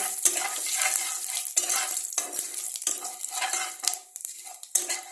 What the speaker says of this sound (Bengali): এখন আমি কড়াইতে দিয়ে দেব সাদা জিরা, তেজপাতা আর শুকনো লঙ্কা ফোড়ন দিয়ে এটাকে একটু ভালো করে নাড়ব